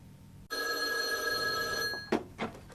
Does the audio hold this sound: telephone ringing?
yes